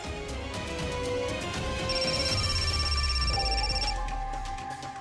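A phone rings with a steady electronic ringtone, a sustained tonal trill lasting several seconds, fairly loud and close, heard alone without talk.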